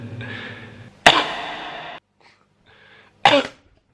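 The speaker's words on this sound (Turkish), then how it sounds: "Öksürmem lazım bir de çekemiyorum." Repeated coughing from a person ill with COVID-19: a long raspy bout, a short pause, then a second sharp, harsh cough, close and loud with no speech.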